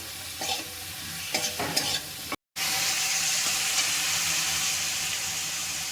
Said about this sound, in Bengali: দিয়ে ভালো করে সমস্ত উপকরণ আবার মিশিয়ে নেব